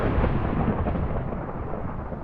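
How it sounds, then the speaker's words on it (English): Rumbling thunder during a thunderstorm in Minecraft, a loud, sustained low roll that fills the whole moment and slowly fades, with no talk over it. "Alright, Thunderstorm."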